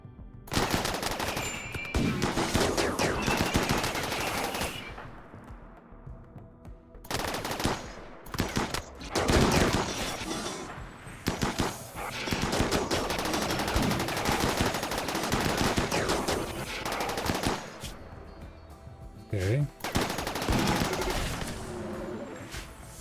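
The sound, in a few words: heavy gunfire in a video game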